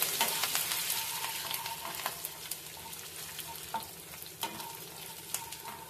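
Finely chopped ginger sautés in a pan for veg noodles, giving a steady close sizzle and crackle with scraping stirs and light utensil taps throughout, and no voices.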